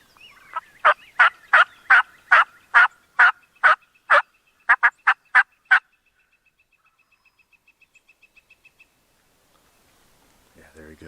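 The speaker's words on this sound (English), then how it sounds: "That's a turkey right there. And then there's one gobbling." Wild turkey gobbles ring out in a rapid series of about a dozen loud, rattling calls in spring woods in Ohio. They are followed by a fainter, quickening trail of clucks and then quiet.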